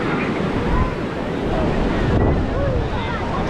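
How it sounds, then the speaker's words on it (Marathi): Sea waves surge and wash against the shore at Guhagar during a Ganesh immersion procession, a steady loud roar of surf with wind buffeting the microphone throughout. "असं लाटा ढकलतात मागच्या साईडला"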